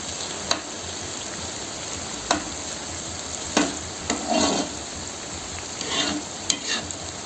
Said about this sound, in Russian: И теперь так вот его перемешиваем.